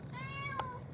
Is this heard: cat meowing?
yes